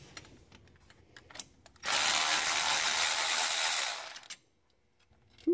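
A ratchet wrench loosening a bolt gives one loud, steady burst of rapid clicking for about two seconds, close by, framed by quieter handling noises before and after.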